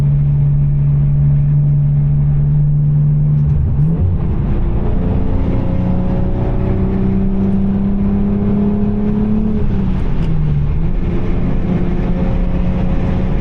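A BMW E46 engine drones steadily while driving in the rain, then its pitch drops and rises again as it shifts from sixth to fifth gear, continuous and close inside the car.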